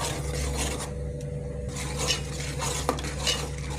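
Ground coriander-mint paste simmering in a pan, a spoon rasping and scraping against the metal in continuous strokes over a low background hum.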